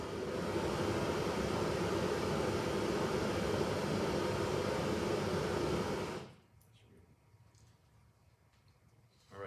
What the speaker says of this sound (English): that pink noise signal is next fed into an equalizer